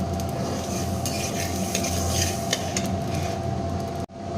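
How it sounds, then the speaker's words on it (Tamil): Mustard seeds roasting in a pan while spices are dry-roasted for Kongu-style sambar powder, a dense sizzling crackle with stirring scrapes, close and steady, before an abrupt cut near the end. "கடுகு பார்த்தீங்க அப்படின்னா இப்போ ஒன்று போல் நல்லா பொறிஞ்சு வந்துடுச்சு"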